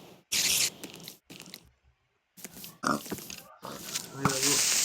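Pigs grunt in Minecraft survival gameplay: several short, loud grunts and oinks come in bursts separated by silent gaps, mixed with game sounds.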